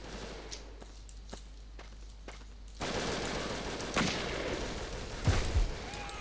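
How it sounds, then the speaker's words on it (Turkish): Gunfire in the blocky online shooter Brick Force: a few sharp, separated shots over quiet background, then a louder, denser stretch of firing with noisy bursts toward the end. "Bir şey sıkıyor ama neyin sıktı belli değil."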